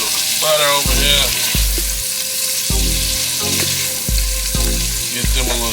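Vegetables frying in butter in a pan for gumbo, after sausages have been browned. A steady close sizzle runs throughout, broken by a regular series of dull thuds and scrapes from stirring.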